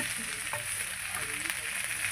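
Thinly sliced okra sizzles as it drops into hot tempering oil for a Telugu sesame-powder okra curry, a close, steady crackling fry with faint stirring.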